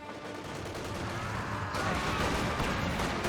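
Continuous clatter of .50 cal machine gun and rifle fire in a Company of Heroes 2 WWII battle, dense overlapping shots at moderate distance with a slight swell in intensity midway.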